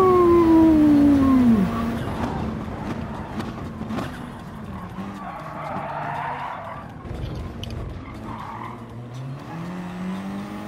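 Race car braking and skidding in Gran Turismo Sport, a loud sliding tire squeal up front that gives way to steady engine and road noise from the pack, with no talking.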